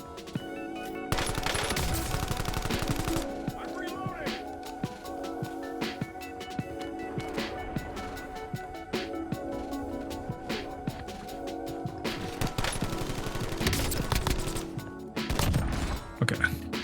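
Gunfire in the Warzone video game, played on an $800 gaming PC: bursts of rapid automatic shots and single cracks recur through the clip at moderate level.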